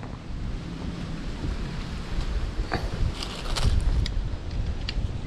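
Strong wind roars steadily against the microphone during a lansones fruit harvest, a dense low rumble with gusts building and a few faint clicks.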